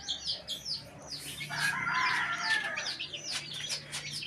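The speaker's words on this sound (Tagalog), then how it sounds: "Mga sisiw." Chicks peep and cheep near a chicken coop under construction, while adult hens and a rooster cluck and crow in the background; the calls come in many short, overlapping bursts at steady, moderate volume.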